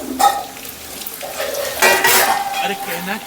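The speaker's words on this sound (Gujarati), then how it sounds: "તેલમાં ડુંગળીને સાતળવાની છે બધી ડુંગળી નાખી દેવાની" Onions frying in oil in a pan for a dhaba-style veg paneer korma, with metal spoon scrapes and pan clatter over a steady sizzle; a voice speaks faintly in the background.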